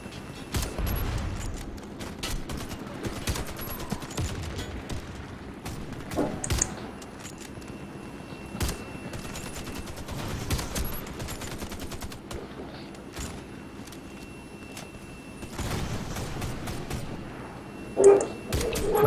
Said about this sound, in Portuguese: Eles têm uma artilharia pesada